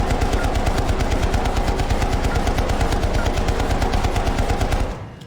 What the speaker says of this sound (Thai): ให้เรายิงกำจัดศัตรูไปเรื่อยๆนะครับ